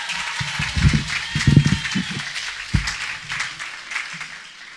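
A crowd at a Women's Day rally claps in loose bursts, loudest in the first two seconds, then thinning to scattered claps with faint background murmur.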